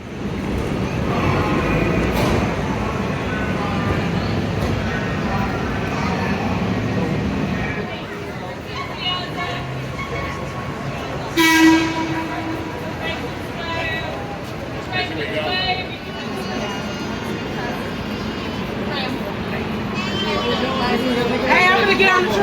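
An old CTA heritage train at a busy platform during a 100th birthday celebration, its low rumble and clanks sitting beneath steady crowd chatter, with a short squeal or tone partway through.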